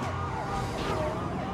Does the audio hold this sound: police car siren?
yes